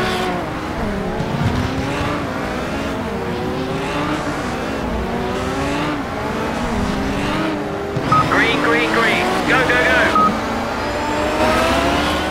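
A pack of racing cars in the Project CARS video game launching at the start of a race on a German circuit, engines revving hard and rising in pitch, tires squealing briefly, with someone commentating throughout.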